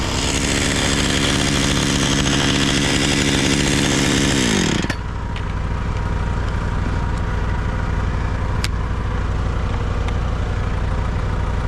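Chainsaw fitted with Hipa aftermarket parts, running loud and close at high revs while cutting for about five seconds, then dropping to a rough, steady idle for the rest.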